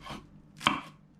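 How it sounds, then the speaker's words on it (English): Sawtooth coriander is cut into small pieces on a board, with two sharp knife chops about half a second apart, close and clear with no talk. "Sawtooth coriander, all you need to do is just cut to small pieces"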